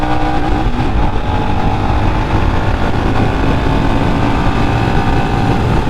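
A Royal Enfield Scram 411 motorcycle engine runs loud and steady with a deep, continuous drone, unbroken by speech.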